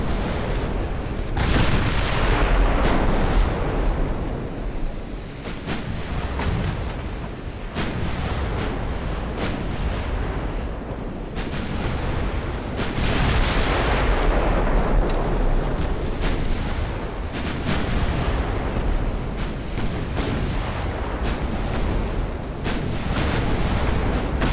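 Naval gunfire from warships in Ultimate Admiral: Dreadnoughts, an 1890-era fleet battle game, as a dense, continuous barrage of booming cannon shots and explosions, loud and unbroken over the whole stretch, with no voices.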